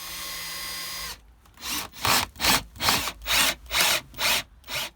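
A power driver whirs for about a second while a screw goes through a board into a sailboat's wooden bulkhead. About seven rhythmic rasping strokes against the wood follow, close and fairly loud.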